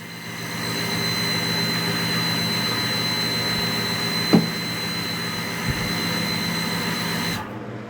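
A water pump pressurizing a home water system with a pressure control, a steady, even mechanical hum with a constant whine that runs for several seconds and then stops abruptly.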